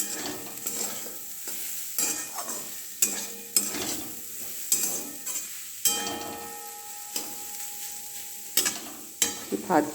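Cauliflower fries in a pan, its steady sizzle broken by repeated metallic scrapes and knocks of a spoon as it is stirred, with no voices present.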